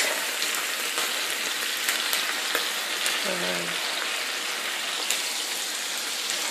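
Shrimp sizzle loudly and steadily in a hot pan while being cooked for shrimp fried rice, a dense, continuous crackling hiss with a brief stir partway through.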